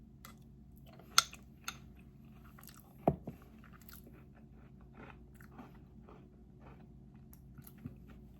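Someone bites into and chews a small pear parfait bowl topped with flaky sea salt, giving a few sharp crunchy bites and soft chewing sounds close up, quiet and without talk.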